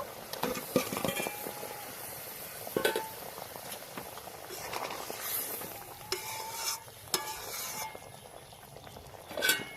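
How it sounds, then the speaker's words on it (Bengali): Fried eggs being stirred into an egg malai curry with coconut milk in a pan, giving soft sizzling and scraping stirs with occasional utensil clinks against the pan, close and moderately quiet. "এবার আমি ভেজে রাখা ডিমগুলো দিয়ে দেব।"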